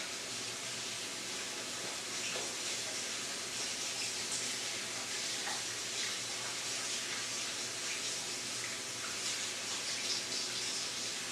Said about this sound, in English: go wash your hands for 20 seconds with warm water